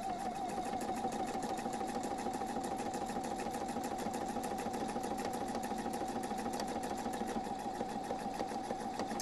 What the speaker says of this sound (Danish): Denne her maskine laver knaphul i en arbejdsgang.